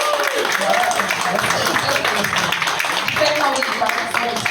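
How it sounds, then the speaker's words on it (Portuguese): A crowd at a cultural society event claps steadily and loudly throughout, a dense sustained applause for actor Maurício de Castro with no single claps standing out. "eu quero uma salva de palmas para um ator internacionalmente conhecido, Maurício de Castro"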